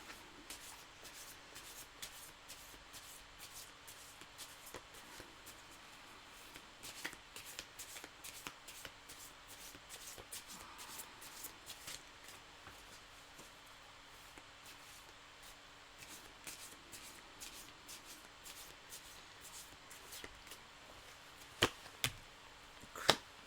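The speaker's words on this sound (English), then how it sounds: "That was my shuffling." Tarot cards being shuffled by hand: a quiet, rapid run of soft papery snaps and flicks that carries on steadily, with a few sharper taps near the end.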